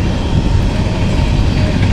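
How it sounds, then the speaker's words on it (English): A freight train rolls past close by, its cars trailing off toward the caboose at the end, giving a loud, continuous rumbling rattle of wheels on rails with no voices. "Train's just about gone now. Comes the caboose."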